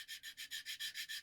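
Material being cut at an angle during a build, a steady back-and-forth rasping stroke repeating about eight times in quick, even rhythm, close up and alone.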